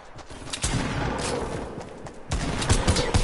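Rapid video game gunfire rattles in dense, loud bursts of automatic shots. A short lull comes before another close volley.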